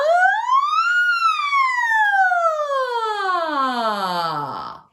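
A single singer does a vocal siren exercise, a smooth loud glide that rises quickly, then falls slowly over several seconds and fades out at the bottom, with the voice imitating a siren.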